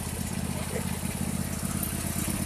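A riding lawn mower's engine runs steadily close by in a yard in North Port, a continuous low, even drone with no pauses.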